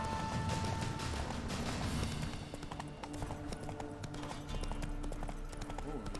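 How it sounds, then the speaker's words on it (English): A horse's hooves clip-clop at a steady trot in the video game The Witcher 3, mixed with in-game ambience and strongest during the first two seconds. "Oh, madre mía, el caballo."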